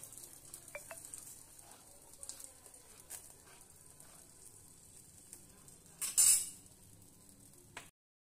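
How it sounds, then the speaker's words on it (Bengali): A spoon stirs chicken egg soup thickened with cornflour in a pot. Soft scraping and a few light clinks sit over a faint simmer, then a brief louder clatter and hiss of steam near the end, with no talking. "এবার জলের মধ্যে কর্নফ্লাওয়ার গুলিয়ে রেখেছিলাম সেটা দিয়ে দিলাম। দিয়ে ভালো করে নাড়াচাড়া দেবো,"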